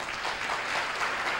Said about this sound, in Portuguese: Podem aplaudir a Deus agora.